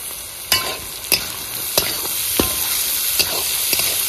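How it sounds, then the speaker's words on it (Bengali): Carrots, capsicum, beans and peas stir-fry in a hot pan for fried rice. A steady loud sizzle runs throughout, broken by about six sharp spatula strikes and scrapes at roughly regular intervals. "গাজর, ক্যাপসিকাম, বিনস অর্ধেকটা ভাজা হয়ে গেছে, এখন দিয়ে দেবো মটরশুঁটি, এটাও একটু ভাজে নেবো।"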